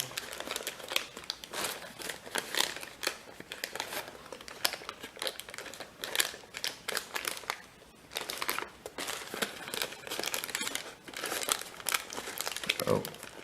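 Paper being folded into a valley fold for an origami dobsonfly, making steady close crinkling and rustling with occasional sharper crackles throughout.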